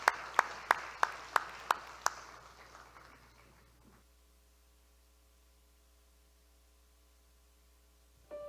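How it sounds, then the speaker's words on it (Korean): Clapping in a church: about six sharp, evenly spaced claps that ring out in a reverberant hall, then die away into a low steady hum. "박수하겠습니다."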